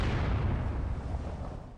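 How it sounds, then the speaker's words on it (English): German artillery fires on Allied troops at Anzio, a deep, rumbling boom that rolls on and slowly fades, heavy in the low range and heard with no voices. "From guns hidden in the Alban Hills, the Germans continued to hurl artillery shells at the Allied troops pinned down at Anzio"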